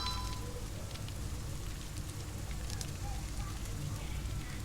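Rain falls steadily in the game Don't Starve as a constant soft hiss with scattered drops, with a campfire crackling beneath and someone talking over it.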